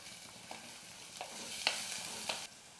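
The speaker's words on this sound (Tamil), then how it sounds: "பச்சை மிளகா பூண்டு எல்லாமே நல்லா வதங்கிடுச்சு இப்போ வந்து நம்ம வெங்காயம் சேர்த்துக்கலாம்" Onions with green chili and garlic sautéing in a pan, a faint, steady sizzle broken by a few light scrapes of stirring, fairly quiet and close, with no voices.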